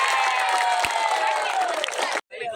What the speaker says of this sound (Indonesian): Tepuk tangan tuh Ibu.